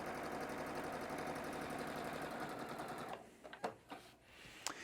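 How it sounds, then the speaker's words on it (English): A sewing machine stitches a quarter-inch seam through batik quilting fabric, a steady rapid motor-driven hum for about three seconds that stops abruptly, leaving a few faint handling clicks and rustles. "I'm going to go ahead and just stitch a 1/4 inch seam allowance on one side"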